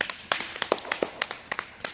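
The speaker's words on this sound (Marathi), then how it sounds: "तर सगळ्यांनी तिच्या टाळ्या वाजवायच्या सगळ्यांनी." Several people clap for a young girl's dance, scattered, uneven handclaps at close range over a couple of seconds, with no voices.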